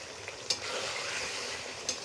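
Village-style mutton curry sizzles softly in a pan as it is stirred and sautéed, a quiet continuous frying hiss with two sharp scrapes or clinks of the spoon against the pan.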